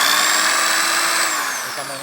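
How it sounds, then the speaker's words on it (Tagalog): An electric drill whirs at high speed, its pitch slowly winding down as it spins, loud and close. "So pag nilagyan ko ng barena yan"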